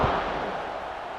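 A steady, dense roar from a stadium crowd in a college football video game, Fresno State against USC, holds evenly through the moment before a kickoff, with no distinct individual voices.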